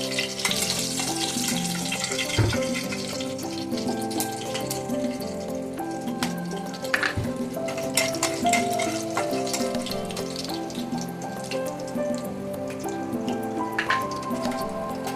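Cinnamon sticks and cardamom pods frying in hot oil in a home kitchen pan, a steady close sizzle with crackling and faint clinks running unbroken throughout.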